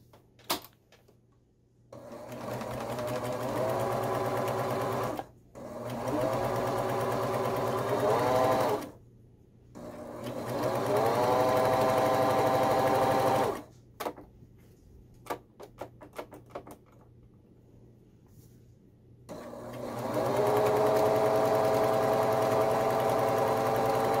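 Sewing machine stitching a hoodie hem, running in four steady whirring bursts separated by short pauses with light clicks, close and fairly quiet.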